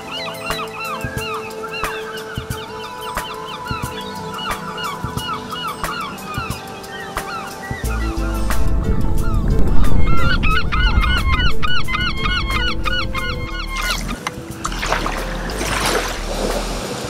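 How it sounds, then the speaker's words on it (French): Lesser or great black-backed gulls call repeatedly in a loud, raucous chorus of honking cries on the Brittany coast, joined midway by a rushing low wash of water or wind. "les goélands bruns ou marins ont quant à eux trouvé leur nid"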